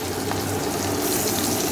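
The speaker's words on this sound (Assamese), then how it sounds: "তো ইয়াতে আমি প্ৰথমতে দিম কেঁচা পিঁয়াজ" Raw onion drops into hot oil in a home kitchen and fries with a steady, dense hiss and sizzle that holds evenly throughout the short stretch, with no voices.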